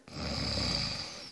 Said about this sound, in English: I just hear snoring.